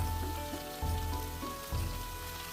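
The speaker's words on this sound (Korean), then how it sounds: "팬에 올리브 오일을 넉넉히 두른 후 양파를 먼저 볶아줍니다." Onions sautéing in a generous amount of olive oil in a pan, a soft continuous sizzle and crackle, steady and close, with no voices.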